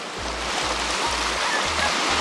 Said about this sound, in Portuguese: tem ondas quebrando aqui na praia, ó